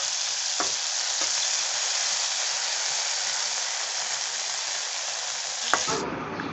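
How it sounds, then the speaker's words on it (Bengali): Small prawns, coated in salt and turmeric, fry in hot oil in a wok with a loud, continuous, dense sizzle and a few stirring knocks, then the sizzle softens near the end. "তারপর কড়াইয়ে তেল গরম করে চিংড়ি মাছগুলিকে লাল লাল করে ভেজে নিতে হবে।"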